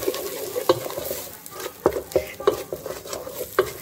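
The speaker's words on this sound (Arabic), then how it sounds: "نزيدو المغرف الصغيرة تاعنا تاع الطماطم، نزيدو نحمصوها مليح معاها" Tomato paste toasting in a pot with flour, butter and onion for Turkish lentil soup, with a spoon scraping and stirring in repeated strokes over a low, steady frying sizzle, close up.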